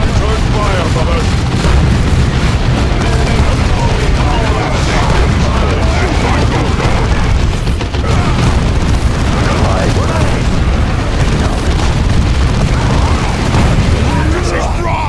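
Continuous loud battle din in Warhammer 40,000: Dawn of War 2, booming explosions and gunfire layered throughout as Space Marines fight orcs, with shouted voices mixed into the roar.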